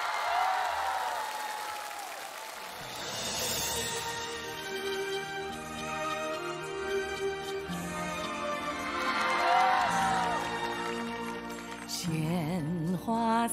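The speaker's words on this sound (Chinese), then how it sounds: "让我们掌声有请" Studio audience applause and cheering on a Chinese television variety show as featured singers are welcomed, a broad steady wash of clapping blended with music and brief voices.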